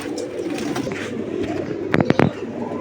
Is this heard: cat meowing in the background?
no